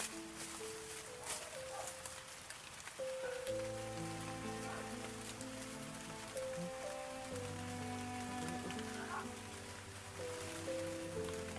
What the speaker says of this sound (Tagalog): Ulan na. Nababasa na tayo ba?